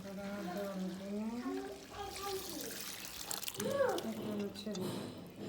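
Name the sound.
boiled mung dal poured into pan with fish head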